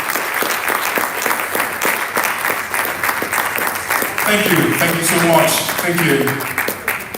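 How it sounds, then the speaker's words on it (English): Audience applause at a live awards ceremony, a dense sustained clapping from a large crowd filling the room, with a voice speaking over it near the end. "if you're giving a round of applause for that gentleman, I think he deserves better"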